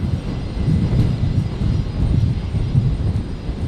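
Jet engines roar from the Qantas 941 retro roo airliner on an evening at Brisbane airport, a broad steady rumble heard close and loud, with no voices over it.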